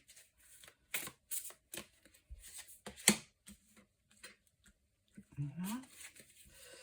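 Tarot cards being shuffled, slid and laid out one by one on a table during a reading, producing soft, scattered close-up swishes and taps with quiet gaps between them and a French-speaking voice in the background.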